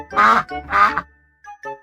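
A duck gives two loud, close quacks in a row, followed by a couple of faint high tinkling notes.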